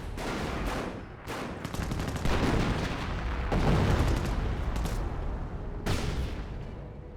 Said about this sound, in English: Artillery running on in, but it doesn't appear to be Hummels.